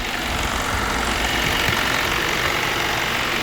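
Radiator cooling fans on a 2001 Volkswagen Beetle run with a steady, broad whooshing roar, close and constant without pause.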